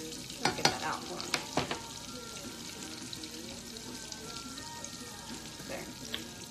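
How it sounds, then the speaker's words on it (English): Two tablespoons of butter melting in a saucepan over medium heat, a soft continuous sizzle with several sharp clicks and scrapes of a utensil against the pan early on, close up. "that's just 2 tablespoons of butter in a medium heated saucepan"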